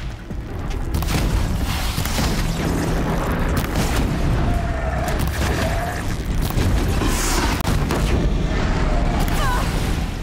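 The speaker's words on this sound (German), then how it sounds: "wenn ich auf die einen Tank schieße, dann explodieren die." Heavy booming blasts and rumbling explosions as shot tanks explode in the video game Horizon Zero Dawn, rolling through continuously, with clanking and crackling debris over a dense low roar.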